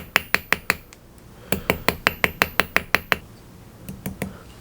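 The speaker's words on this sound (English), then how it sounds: "I'm going to use the ball peen part of my hammer to do that." A ball peen hammer taps a small metal ring being forged into a calla lily shape, sharp close strikes in quick even runs of five to nine blows, separated by brief pauses.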